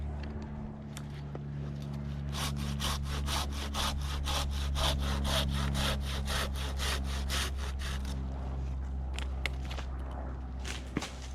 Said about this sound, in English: All I have is my handsaw with me, so we're going to do this with the handsaw.